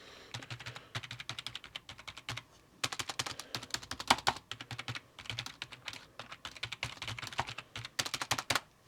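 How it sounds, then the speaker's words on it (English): Rapid, steady typing on a generic computer keyboard, close up with dense clicking keystrokes and brief pauses between runs, no voices. "So to the generic keyboard first."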